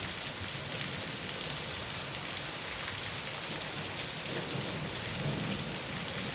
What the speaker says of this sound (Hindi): लगता है रात भर बारिश नहीं रुकी